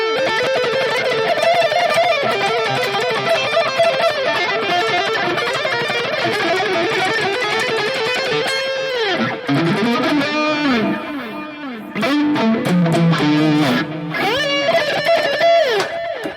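Electric guitar played through an overdrive effect on a Valeton GP-200 multi-effects unit, with a thick, gritty sustained tone and shifting chords, loud and continuous with brief dips.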